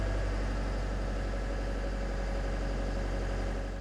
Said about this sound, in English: Let the engine warm up before operating.